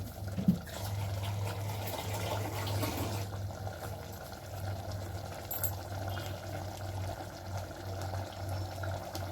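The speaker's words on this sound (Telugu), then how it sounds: "కావాల్సిన వాటర్ వేసుకున్నాను" Water pours steadily into a pot with a continuous rushing, splashing sound over a low background hum.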